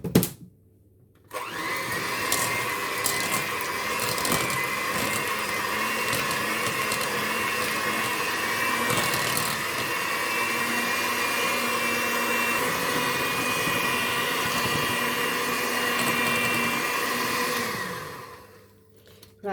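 An electric hand mixer whisks butter for a carrot cake, a steady loud motor whine running for about sixteen seconds before switching off, with no talking.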